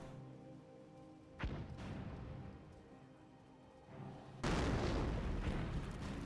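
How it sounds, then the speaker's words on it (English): A mortar fires in a Company of Heroes match, with a sharp thump early, then a few distant booms and a loud rumbling burst near the end, fairly faint overall. "Here, mortar firing away."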